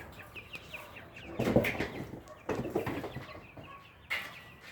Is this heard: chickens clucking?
yes